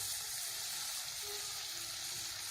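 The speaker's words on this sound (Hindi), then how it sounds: "और थोड़े से अब मैं इसमें करी लीव्स डाल देती हूँ" Curry leaves sizzle steadily in hot oil in a pan while moong dal is being cooked, making a continuous, fairly quiet crackling fry with no talking.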